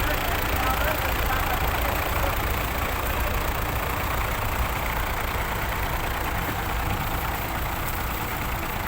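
A ten-wheel truck engine idles with a steady low rumble and broadband mechanical noise, constant throughout.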